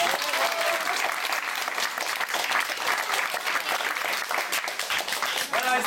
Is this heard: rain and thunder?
no